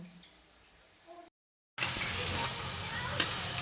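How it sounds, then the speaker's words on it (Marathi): Steady hissing sizzle of spices hitting hot oil for a vegetable dish's tempering, loud and close, following a brief quieter stretch and a moment of silence. "आता ह्या पण भाजीला फोडणी दिली"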